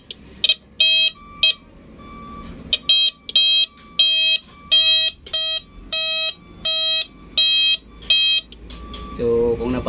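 An additional back horn on a vehicle sounds after being wired, giving a loud, close series of repeated electronic beeps in short bursts with brief gaps. The bursts end in a rougher noise.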